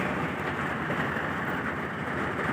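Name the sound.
heavy rain with thunder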